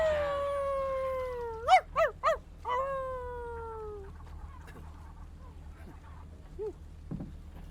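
A drawn-out, whining dog howl in a video game, broken by a few sharp yelps, then fading into quieter scattered background noises.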